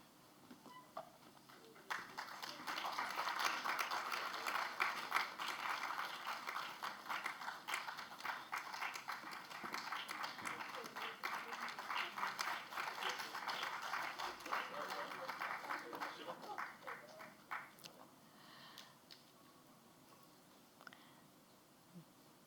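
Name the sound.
audience applause at a panel discussion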